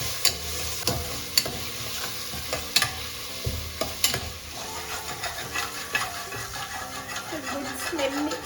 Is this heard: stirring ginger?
yes